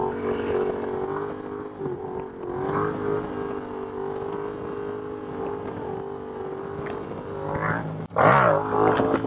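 Yamaha MT-07 stunt bike revving hard through a steady, continuous engine drone with shifting pitch, then a sharp loud burst of throttle near the end, close and without talk.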